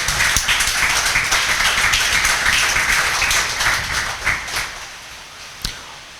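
Students in a classroom clap for a classmate, a brisk round of applause that thins out toward the end with a few last claps.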